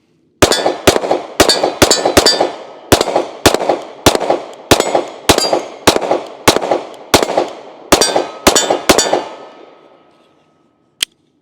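SIG P365 pistol fired in a rapid string of about twenty loud, sharp gunshots, mostly in quick pairs and triplets, each with a short ringing decay, then one last isolated shot after a pause.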